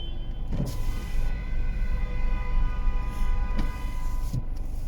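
Several horns sound among idling traffic, brief honks at a moderate distance over a constant low engine rumble.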